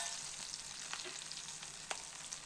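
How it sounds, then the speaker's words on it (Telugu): Frying in oil for a paneer curry, a faint, steady sizzle with a couple of soft stirring clicks, heard alone. "మంచిగా ఆయిల్లో ఫ్రై చేయాలి"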